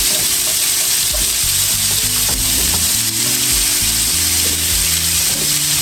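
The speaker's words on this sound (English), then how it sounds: "we're gonna brown this meat" Ground meat browning in a hot pan, a steady loud sizzle running throughout, with stirring and scraping noises layered on top and no voices.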